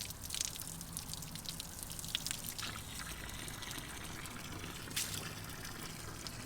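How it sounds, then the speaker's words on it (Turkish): Tripe being washed under running water, a steady faint trickle and splash with a few brief louder drips and clinks, continuous and close, no talking. "bunları hepsini burayı şimdi yıkayacağız, tertemiz edeceğiz"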